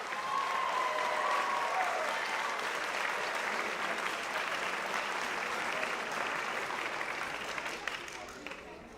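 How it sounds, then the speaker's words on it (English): Dense, loud clapping from a seated audience at a high school JROTC awards ceremony, continuous for several seconds before fading a little at the end, with a brief whistle early on. "Please give one more round of applause."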